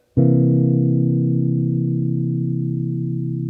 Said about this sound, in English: So if I play a C 7th chord, it'll sound like this.